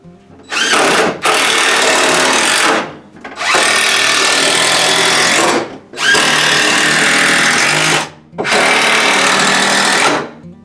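Close and loud, a power drill drives screws through drywall into ceiling blocking in four sustained whirring bursts separated by short pauses, with no talking.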